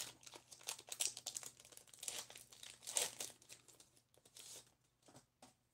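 Pokémon card packs from a Hidden Fates collection box are torn open by hand without scissors, giving faint, close crinkling and tearing of foil wrappers in short irregular bursts.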